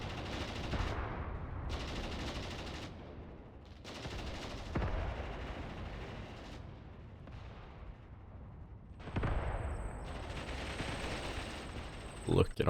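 Sustained machine gun bursts with tracers in the war game Mius Front, rapid rattling fire in several long strings from near and far, with heavier blasts mixed in and someone speaking over parts of it.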